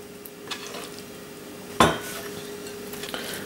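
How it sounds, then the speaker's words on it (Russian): A utensil gently stirs a salad of chicken, arugula, avocado and mandarin in a bowl, with soft scraping and one sharper clink of metal against the dish. "Аккуратно перемешаю."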